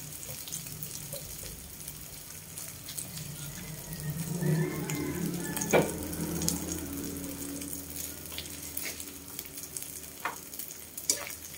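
Egg poured into hot oil in a pan, with a continuous crackling sizzle that rises midway and stays steady, mixed with some clinks and splashing.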